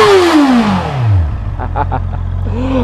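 A 2023 Honda CB650R motorcycle engine falls from a high-pitched rev at the rev limiter down to a low idle rumble, followed by a few quick throttle blips.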